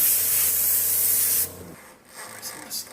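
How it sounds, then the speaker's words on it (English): Multi-enzyme coil cleaner sprayed onto an air-conditioning system, a loud steady hiss for about a second and a half that stops abruptly, followed by faint handling noises. "spraying on now our multi-enzyme coil cleaner"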